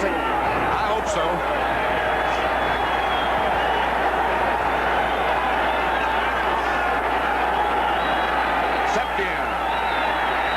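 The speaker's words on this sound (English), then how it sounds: "the crowd is going to be this loud the entire game" A roaring stadium crowd at a 1979 Dallas Cowboys at Philadelphia Eagles football game, a dense continuous wall of cheering and noise throughout, with a broadcaster talking over it.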